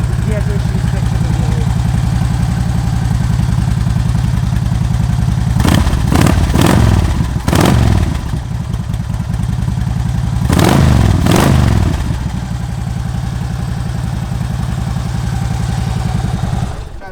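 A 2009 Harley-Davidson Ultra Classic motorcycle engine is started and left running, a loud, steady, close idle rumble with two brief rev blips and clattering bursts partway through.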